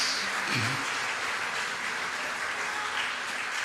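A church congregation at a Holy Spirit worship service claps hard and long, a dense continuous wash of applause from many hands with a brief voice heard early on.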